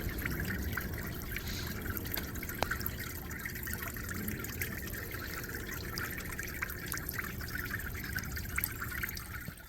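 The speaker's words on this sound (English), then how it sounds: "the kind of trickling water feature. Very peaceful." Gentle, continuous trickle of water from a garden water feature, splashing and dribbling steadily, close by, with no voices.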